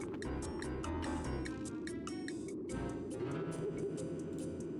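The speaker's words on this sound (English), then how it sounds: "It's a freaking bird." A bird cooing in the video game Tex Murphy: The Pandora Directive, soft repeated calls set against a constant tonal game ambience.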